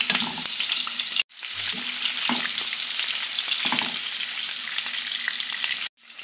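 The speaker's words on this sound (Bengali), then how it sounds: "পনিরটাকে এবারে ভেজে নেব" Paneer cubes fry in hot mustard oil in a kadai with a loud, continuous sizzle and spatter heard up close. Two brief cuts silence it, and no voices are heard.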